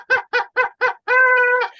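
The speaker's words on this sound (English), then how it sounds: "That gets the victory horn," A victory horn sounds in four short honking blasts followed by one long sustained blare, loud and close, with no voices.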